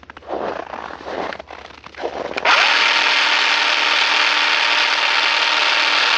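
A Makita power tool, played as a joke electric razor, first rattles and works unevenly, then settles into a loud, steady, close high-pitched whir that holds to the end.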